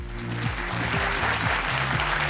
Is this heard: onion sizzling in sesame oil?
no